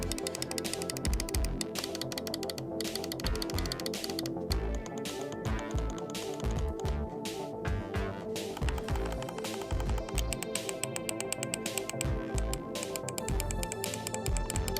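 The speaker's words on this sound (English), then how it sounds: "So as you can hear by that click test, this isn't exactly going to be a quiet mouse." Rapid button clicks from a Razer Cobra computer mouse, heard close up as a dense, busy run of sharp taps that keeps going steadily for about fifteen seconds.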